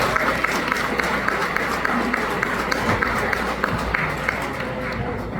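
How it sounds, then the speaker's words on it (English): Applause from an audience at a board meeting, a dense steady patter of many hands that holds at an even level for several seconds, with some murmur mixed in. "So again, I'll ask for a round of applause for the work that's been done."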